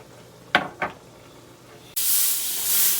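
Filet mignon sears in a hot cast iron skillet for a Beef Wellington, a loud steady sizzle and hiss that comes in abruptly and holds, after two brief knocks.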